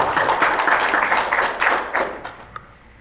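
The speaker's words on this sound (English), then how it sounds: "Please give him a round of applause." A panel audience gives a brief round of applause, a few seconds of moderate clapping that fades out with a last isolated clap.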